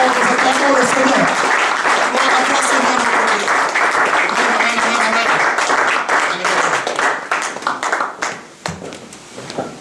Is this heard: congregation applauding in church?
yes